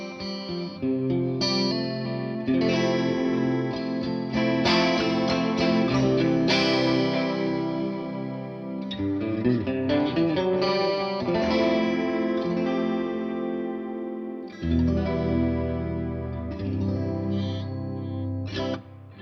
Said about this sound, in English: the Dimension thing is really cool because it takes those 2 choruses and intermingles them